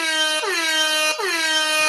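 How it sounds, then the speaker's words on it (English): An air horn blares loud and close in one long sustained blast, its tone dipping and rising again twice as it wavers, with no talking over it. "we're gonna go up here and we're gonna air horn you."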